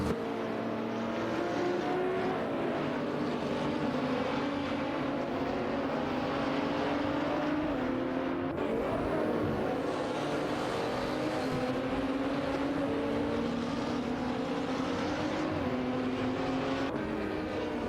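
Ferrari 488 GT3, McLaren 720S GT3 and Alpina B6 GT3 race cars in a sim racing game, engines droning steadily and loud throughout with layered revving from several cars close together, no talk.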